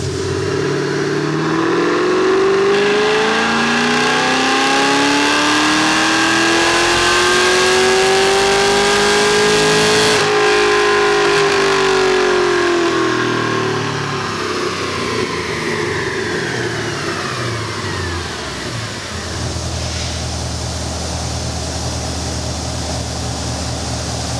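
A car engine revs hard on a dyno and climbs steadily in pitch, then winds down and settles to a rough idle, loud and sustained.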